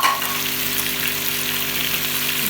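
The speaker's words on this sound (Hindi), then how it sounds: "आप देख रहे हैं, आवाज़ें आ रही हैं गोश्त फ्राई होने की।" Mutton sizzling and frying in a pan with ground coriander and black pepper for a mutton curry, a steady, close, continuous crackle and hiss with no talking.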